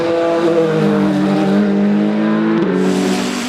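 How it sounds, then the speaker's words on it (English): A Toyota WEC prototype race car at Spa, 2016 6 Hours, drives into La Combe with a loud, sustained engine note whose pitch falls and then briefly rises again, with no talk over it. "the Toyota pushes on again into Le Combe and still holds the lead"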